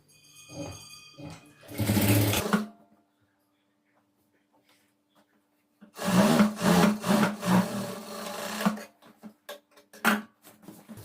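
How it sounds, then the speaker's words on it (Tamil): A sewing machine stitching the double-folded ends of a pant leg in a tailoring class, running in two bursts: a short run near the start and a longer run of stitching later, both close and fairly loud. "இப்போது 2 எண்டையும் நம்ம ஃபோல்ட் பண்ணி ஸ்டிச் பண்ண போகிறோம்."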